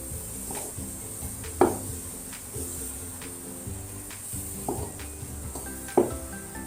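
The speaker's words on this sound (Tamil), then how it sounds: "ஒரு 3 to 5 மினிட்ஸ்க்கு நல்லா மிக்ஸ் பண்ணி விடுங்க." Green gram ladoo mixture is stirred in a pan, with a steady sizzle and hiss under repeated scraping strokes of a spoon against the metal, a few louder knocks standing out.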